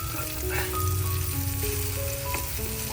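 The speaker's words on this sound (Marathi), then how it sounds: "तिकडे बघा बोंबील आपले मस्त फ्राय झालेलं" Bombay duck (bombil) fish fry in a pan with a close, continuous crackling sizzle of hot oil that stays even for a few seconds.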